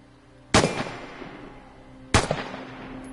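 Two single gunshots test-fired in the game Vigor, each a sharp loud crack with a decaying tail, spaced about a second and a half apart over quiet background hum.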